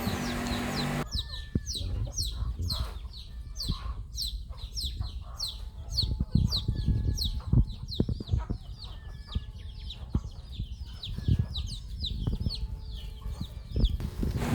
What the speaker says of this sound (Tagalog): nagpapakain po kami ng mga alaga naming mga native na manok